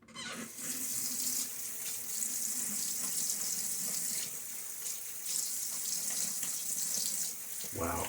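Tap water runs steadily into a sink for a rinse after a wet shave, a continuous close hiss lasting throughout with a brief splashy swell near the end.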